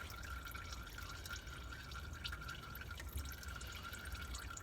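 Warm, thin engine oil drains from a Ford Mondeo in a steady, quiet stream into a pan, with a continuous trickling hiss and faint dripping throughout.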